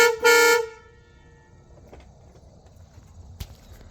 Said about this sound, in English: this is why you need yourself a loud horn on your old car